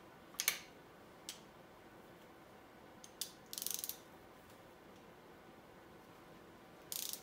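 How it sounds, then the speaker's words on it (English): Ratcheting clicks from a wrench working on a bolt during the teardown of a 430 MEL engine, a few short quiet bursts separated by pauses in an otherwise still room. "This is also a problem when I can't get my wrench off the bolt."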